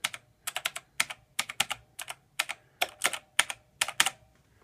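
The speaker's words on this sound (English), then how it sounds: "You hear how lovely and clicky it is? Yep. That's the keyboard." Typing on a clicky Razer mechanical keyboard, with rapid bursts of sharp key clicks in an uneven rhythm, close and fairly quiet, with no talking.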